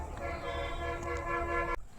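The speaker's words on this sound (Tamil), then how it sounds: "பஸ் ஹாரன் சவுண்டு கேட்குதுங்க." A long, steady bus horn blast sounds for nearly two seconds over road noise on the Maruthamalai temple hill path, then cuts off abruptly, moderately close.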